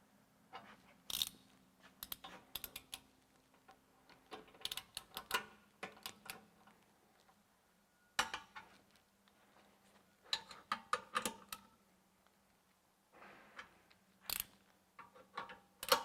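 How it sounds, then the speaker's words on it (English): A torque wrench clicks and ratchets while king pin adapter bolts are tightened, with irregular bursts of sharp mechanical ticks separated by pauses, close and fairly faint. "now my torque wrench is already starting to click, so I'm hitting that 20 foot-pound already"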